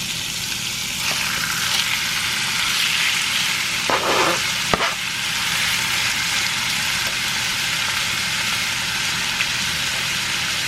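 Chicken sizzling and frying in hot oil in a pan, a steady loud crackling hiss that runs throughout with a few small stirring clinks and pops.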